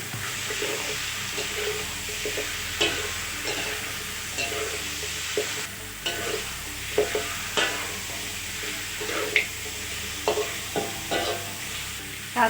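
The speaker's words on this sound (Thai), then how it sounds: "เราก็ใส่ ซี่โครงหมูลงไปผัดเลยค่ะ" A kilogram of washed pork ribs is stir-fried in a pan over fragrant garlic-coriander-pepper paste: a close, continuous sizzle broken by repeated scraping and knocking of a spatula stirring the meat, with no talking.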